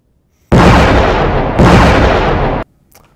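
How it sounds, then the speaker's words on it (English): A loud, close explosion erupts into a roaring blast, followed instantly by a second burst, lasting about two seconds before cutting to quiet. "No, more explosions."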